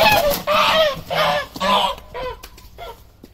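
Geese honk loudly and repeatedly nearby in a series of harsh, uneven calls that grow fainter toward the end.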